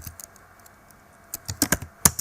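Computer keyboard keys are tapped while VBA code is entered, a few scattered light clicks at first, then a quicker cluster of sharper keystrokes near the end, close and fairly quiet, no voices.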